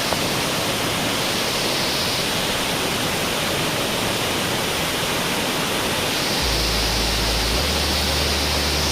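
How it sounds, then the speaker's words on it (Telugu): Talakona waterfall near Tirupati, in full flow, roars as a dense, loud, continuous rush of falling water, steady throughout with a low rumble joining near the end; no voices are heard. "సో ఇదే ఫుల్ వాటర్ పడుతుంది"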